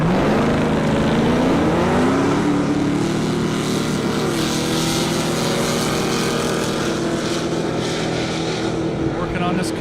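A 1,600-horsepower 1968 Camaro and a 650-horsepower Chevrolet ZL1 drag race down a half-mile airstrip, engines droning and rising in pitch as they pull away, with a steady loud roar throughout.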